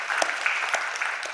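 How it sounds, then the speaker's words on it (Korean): A short burst of encouraging applause from a Korean church congregation for the children, dense and even clapping filling the room at a steady level. "격려의 박수 좀 부탁드립니다."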